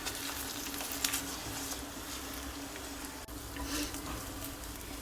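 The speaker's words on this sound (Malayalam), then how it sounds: "എന്നിട്ട് പതുക്കത്തെ ഇങ്ങനെ ഒന്ന് ഇളക്കി കൊടുത്തിട്ട് ചിക്കിയെടുക്കാം." Three eggs with salt are gently stirred and scrambled in a hot pan, giving a soft, even sizzle that runs throughout at low volume with faint scraping and no speech.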